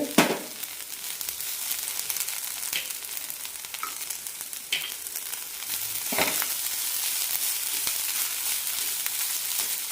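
Grated coconut and cashews sauté in a pan for kurma, a steady close sizzle with occasional scraping stirs cutting through.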